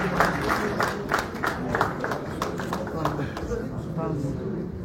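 Applause and crowd noise greet a guest's entrance at a concert honoring soldiers' widows, steady clapping with tapping transients over a dense murmur of voices and talk throughout.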